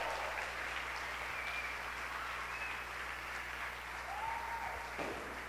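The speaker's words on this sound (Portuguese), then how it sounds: "Dá um aplauso para o Senhor!" Congregation clapping in a church service, a steady sustained wash of applause with a few faint tonal whistles or voices above it, moderately distant and fairly even throughout.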